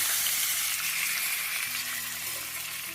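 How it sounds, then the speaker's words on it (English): Steady, hissing sizzle of fish frying in hot oil, close and continuous, with faint crackles and no voices. "start frying the fish. So grab the fish, heat the oil, and gently place it into the pan"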